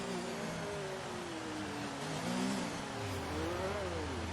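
An Alfa Romeo race car in an Xbox racing game rolls toward the starting grid, its engine humming and revving in smooth rising and falling sweeps, steady and moderately loud, with no speech.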